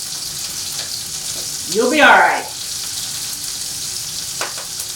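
Steady, bright sizzling of sprouts frying in a hot pan, with a short spoken phrase rising briefly over the hiss.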